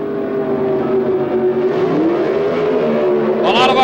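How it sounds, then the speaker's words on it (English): Pro stock drag cars, a Ford Fairmont and a Chevrolet, rev hard and launch together at a 1978 NHRA US Nationals event; a loud sustained engine roar climbs in pitch through the launch, with no talk over it. "A lot of RPM, and they leave the line together."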